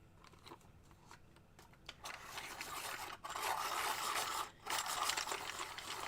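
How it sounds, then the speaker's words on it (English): A coloured pencil is sharpened by hand, starting after a quiet moment and then giving a close, continuous rasping scrape broken by two brief pauses. "I need to sharpen this."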